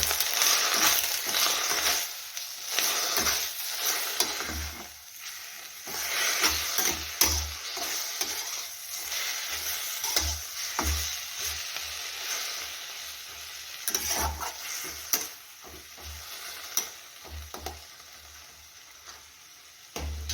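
Safflower leaf greens frying in a pan with red chili powder and salt. A steady broadband sizzle runs throughout, broken by frequent scraping clicks from stirring. No voices are heard.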